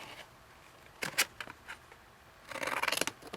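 Scissors snip through paper in short crisp bursts, a few isolated cuts followed by a quicker run of rapid snips, close and fairly quiet.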